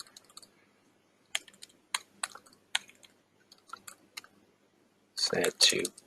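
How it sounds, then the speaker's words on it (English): Typing on a computer keyboard while entering notes into CRM software: scattered bursts of sharp clicks across several seconds, near and moderately loud, followed by a louder rustling burst at the end, with no talk. "You have to forgive my typing."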